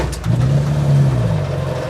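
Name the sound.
old Jeep engine revving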